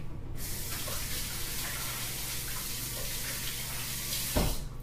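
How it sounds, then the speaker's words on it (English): Tap water runs steadily into a kitchen sink while hands are rinsed. The flow is a constant close hiss from start to finish, with a brief louder splash near the end and no talking. "Let me rinse my hands real quick."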